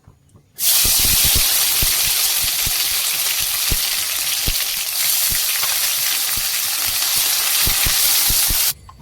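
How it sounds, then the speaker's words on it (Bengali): Cumin seeds hit hot oil, then a ginger, green chili, onion and garlic paste goes in, making a loud, continuous close-up sizzle that starts abruptly and cuts off just as sharply, with scattered soft knocks underneath. "তেলটা গরম হয়ে গেছে এবার জিরে ফোড়ন দিয়ে দিলাম এবার দিয়ে দেবো আদা কাঁচা লঙ্কা পেঁয়াজ আর রসুনের পেস্ট"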